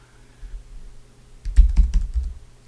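A short, close flurry of computer keyboard keystrokes, a handful of quick taps in an uneven rhythm after a quiet start.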